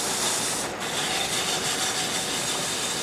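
Steady, continuous rubbing of 220 grit sandpaper across a wooden duck carving, a broad even scratchy hiss that runs without pause at close range.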